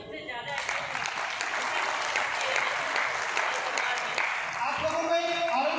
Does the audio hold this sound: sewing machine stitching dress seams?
no